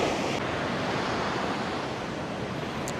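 Surf rolls onto a beach in a steady, loud wash of noise with wind buffeting the microphone, close by and continuous with no voices.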